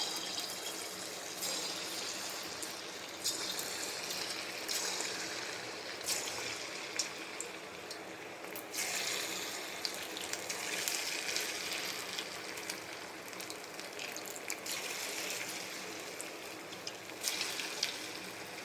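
Small leftover-rice bonda balls deep-frying in hot oil, giving a continuous crackling hiss with scattered bubbling pops throughout, fairly quiet and with no voices.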